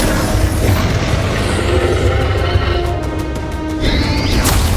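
Fiery spell blasts from Incendio, Confringo and Bombarda in Hogwarts Legacy boom and crash in a loud, dense wash of game explosions and clatter that runs throughout, with a bright whoosh rising near the end.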